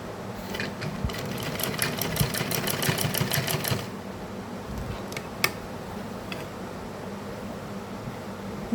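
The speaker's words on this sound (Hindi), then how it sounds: "ऐसे ही सिलाई करके बताते हैं चलो" A sewing machine stitches folded fabric in a quick, steady mechanical rattle for a few seconds, then stops, leaving only faint ticks and a sharp click against a quiet room.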